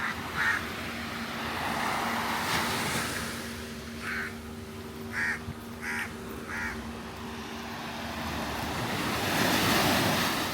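Waves wash onto a beach at Pangkor Island, Malaysia, a soft continuous surf under light wind, with a few bird calls breaking in at intervals.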